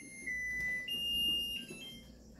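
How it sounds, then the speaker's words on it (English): A kitchen timer signals that canning jars are ready with a thin, high electronic tone that shifts pitch once and holds steady, fairly quiet against a low room hum. "The timer will keep singing unless I turn it off."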